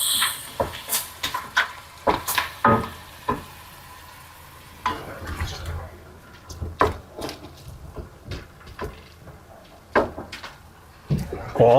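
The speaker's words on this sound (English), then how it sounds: "We're going to add our seafood, the squid, scallops, and shrimp. We'll saute those together." Squid, scallops and shrimp sauté in a pan, with a low sizzle under repeated scraping and clacking of a utensil stirring the seafood, fairly close and moderately quiet.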